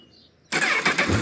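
After a brief quiet moment, a 2008 Honda CBF 1000 ABS motorcycle engine catches and fires up into a rough, close idle.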